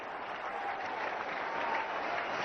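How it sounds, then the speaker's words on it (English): A stadium crowd at Eden Gardens applauds the Indian cricket captain with steady, sustained clapping from many hands, even and continuous, heard at a moderate distance. "The Indian captain acknowledging the applause from the crowd."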